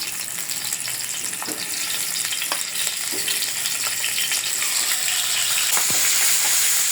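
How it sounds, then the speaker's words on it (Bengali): Loud, steady sizzling of fish heads frying in hot oil, crackling continuously with occasional stirring clinks, no voices. "আমার মাছের মাথাগুলো ভাজা হয়ে গেছে"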